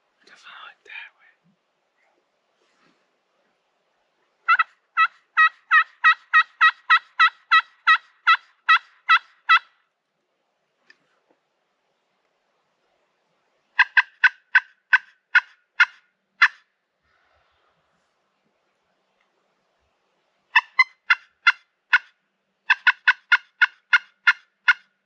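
Wild turkey gobbling from the roost on public land at dawn on opening day, a single distant bird sounding off in three separate bursts of rapid, rattling gobbles, clear against otherwise quiet woods.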